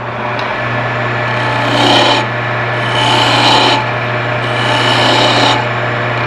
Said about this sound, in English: Adjust the tool rest, and then I've switched to a little bit smaller gouge.